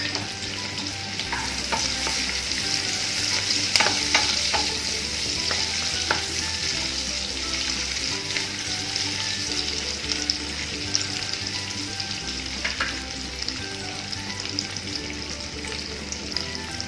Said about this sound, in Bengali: এই পেঁয়াজ ভাজার মধ্যে দিয়ে দিচ্ছি একটু কাজু বাদাম আর কিশমিশ